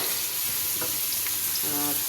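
Chopped onion fries in a hot kadai with a steady, busy sizzle, interrupted by a couple of light scrapes and a short metallic ring from stirring.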